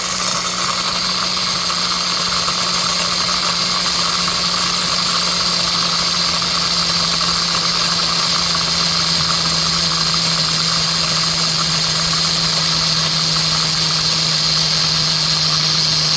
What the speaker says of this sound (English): You hit grind and let it grind.